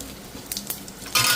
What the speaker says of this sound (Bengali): আমি ফোড়নে দিয়ে দিলাম গোটা জিরে, তার সাথে দুটো শুকনো লঙ্কা